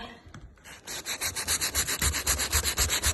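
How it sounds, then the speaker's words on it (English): A small piece of sandpaper scrubs across a burnt-wood cheeseboard, with a short soft rub at first and then quick rhythmic back-and-forth strokes, close and fairly loud. "I just got a little piece of sandpaper."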